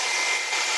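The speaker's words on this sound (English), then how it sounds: "I'm gonna take my hair dryer and dry it off" Hair dryer blowing steadily on a painting, a loud close broadband whoosh with a constant motor tone, alone.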